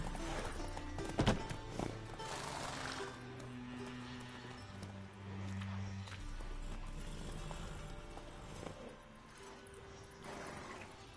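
Horse hooves clip-clopping with an occasional whinny in The Witcher 3: Wild Hunt, set quietly under a game soundtrack with sustained tones.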